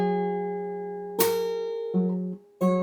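Fingerstyle acoustic guitar: a ringing open high E, then a percussive slap on the bass strings, followed by two more plucked low notes, each attack clear and close against quiet decay.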